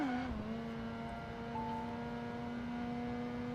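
A Mazda RX-7 rotary engine in Project Gotham Racing 2 holds a steady, sustained whine after a brief pitch drop, heard continuously and fairly evenly over constant road noise.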